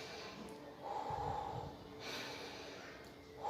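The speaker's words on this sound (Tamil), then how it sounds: "மூச்சு காற்றை மூக்கு வழியாக உள்ளே வாங்கி வாய் வழியாக வெளியே விடுங்க" Breathing during a brisk walking exercise, air drawn in through the nose and pushed out through the mouth, with a couple of soft, close breath swells and a sharp snort-like puff at the end.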